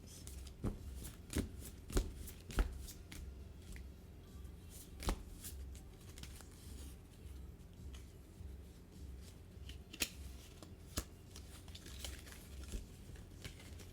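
Tarot cards being shuffled close by, with soft continuous riffling and several sharper snaps and taps scattered throughout, quiet overall with no talk.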